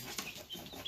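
Chickens cluck softly at close range on a farm, giving a brief, faint pair of calls with no talking.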